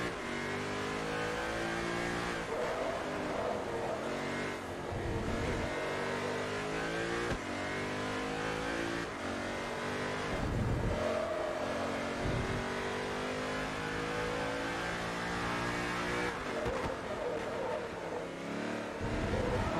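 A race car engine in Forza Motorsport 3 revs hard and continuously, climbing through gears with repeated rising whines and brief shift dips, loud and close throughout.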